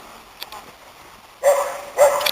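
A dog gives two loud barks close by at a riverside with swans nearby, each bark short and punchy, separated by about half a second, after a quiet stretch with a faint earlier yip.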